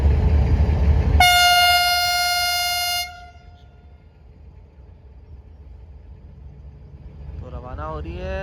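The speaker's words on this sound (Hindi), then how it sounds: "तो रवाना हो रही है 9 ऑफ अल्लामा इकबाल एक्सप्रेस।" A train horn sounds loud and steady at the departure of the Allama Iqbal Express, holding for about two seconds over low rumbling engine and rail noise, then cutting off to a quieter hum with faint voices near the end.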